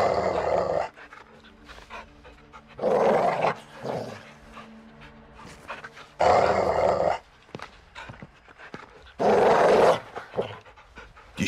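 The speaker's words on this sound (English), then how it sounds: "You see the cage dog? Big geezer. If he barks, shoot him" A big caged dog in the Modern Warfare (2022) campaign, rhythmic loud panting in bursts alternating with low close growls.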